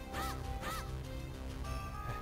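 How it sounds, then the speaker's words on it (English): Crows cawing in The Minish Cap video game: two rising-falling caws in quick succession, then a fainter third call, over a steady bed of game music. "Crows."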